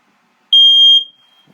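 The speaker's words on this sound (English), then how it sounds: "Your fire alarm." A 2022 Sunseeker 2440 RV smoke and fire alarm gives a single loud, piercing electronic beep lasting about half a second, then cuts off into silence.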